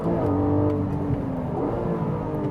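A Porsche 718 GTS 4.0 naturally aspirated flat-six held at high revs in second gear near its rev limiter, a loud steady droning engine note heard from inside the car with no talk.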